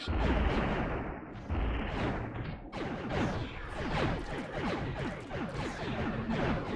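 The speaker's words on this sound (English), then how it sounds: "if they hit you with a glancing hit with a cannon, they'll just bounce off." Cannon fire in the space game SPAZ, a dense barrage of booming shots and crashing impacts with sweeping whooshes, loud and continuous, firing throughout with no talk.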